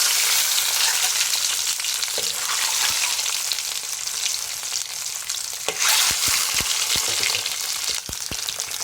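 An egg rubbed with salt and turmeric fries in mustard oil and ghee, a loud continuous sizzle close by, broken by scattered sharp pops and spatters, with no voices.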